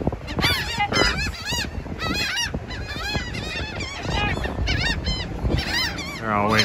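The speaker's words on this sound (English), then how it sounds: "birds." A flock of geese honking repeatedly at sunset, close and loud, their calls overlapping in a busy chorus with some talk underneath.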